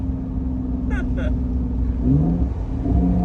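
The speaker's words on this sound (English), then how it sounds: "I love the downshifts." Audi S5 engine revving and rumbling through downshifts, a steady mid-pitched drone that rises with a couple of throttle blips near the end, heard from inside the car with brief speech over it.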